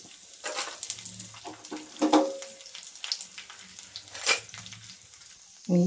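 Cumin, mustard seeds, garlic and a dried red chilli frying in hot oil for a banana-flower curry, a steady close sizzle with a few brief clatters and splashes, no talking.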